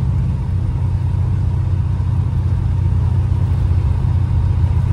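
A 1986 big block Buick Regal Limited G-body with Holley EFI cruising on back roads, heard as a steady, loud low engine rumble and road drone throughout with no talk.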